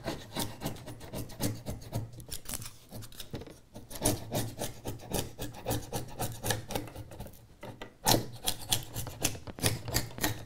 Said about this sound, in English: So I think now's the time to cut this foam back before I start on the retaining walls